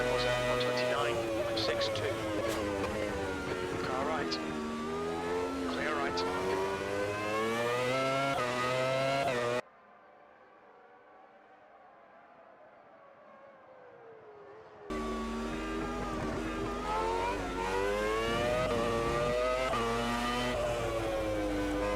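1996 Formula One cars in the racing game Automobilista 2, high-revving engines screaming down the start-finish straight with rising and falling pitch through gear changes, broken by a few seconds of near silence mid-way.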